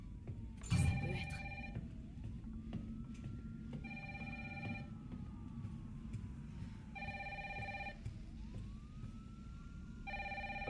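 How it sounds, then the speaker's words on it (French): Telephone ringing in the video game Resident Evil 3: repeated electronic rings in evenly spaced bursts over a steady low rumble, with a short knock near the start and no talking. "Ah, elle téléphone."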